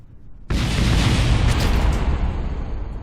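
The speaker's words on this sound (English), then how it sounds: "Did an emergency stage as soon as the explosion started happening there." A rocket explodes in Kerbal Space Program, a sudden loud booming blast that bursts in and keeps rumbling and crackling as a sustained roar, close and heavy with no talking.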